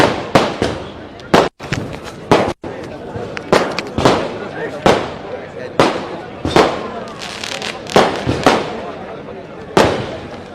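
Firecrackers burst at a political rally in Barad, Maharashtra: loud, close, sharp cracks go off one after another in an irregular string, each ringing out briefly, with faint voices underneath.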